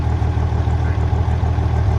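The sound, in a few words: old International 706 tractor engine running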